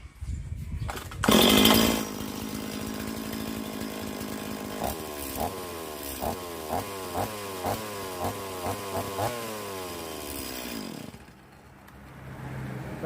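A Stihl MS180 chainsaw starts with a loud burst, then idles and revs in a regular series of pulses before cutting off, close and loud.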